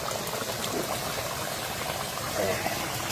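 Mutton curry with garam masala simmering in a pot, a steady bubbling, sizzling hiss that runs close and continuous, with a voice speaking over it.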